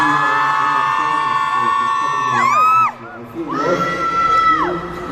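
Malaysian fans at a music showcase cheer in a loud, shrill swell of screams and whoops, dipping briefly before rising again.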